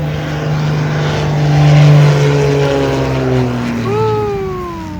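A small propeller plane drones loudly overhead as it comes in to land at Maho Beach, its engine tone swelling and then sliding down in pitch as it passes close by, with wind noise underneath.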